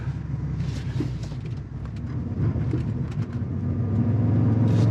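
A 2022 Toyota Tundra TRD Off Road in sand mode spins its tires in sand, with a steady low engine roar that swells louder toward the end. The revving is continuous and close, with no talk over it.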